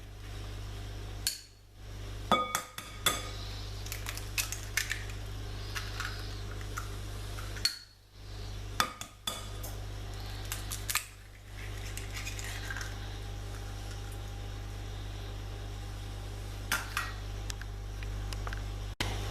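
Three whole eggs going into a glass mixing bowl for brownie batter: a few sharp clinks and knocks spaced over quiet kitchen room tone, with no talking.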